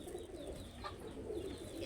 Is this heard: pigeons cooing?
yes